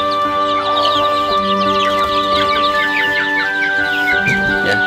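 Free-range village chickens cluck close and loud in a continuous, overlapping chorus of short throaty calls, with a few sharper squawks near the end.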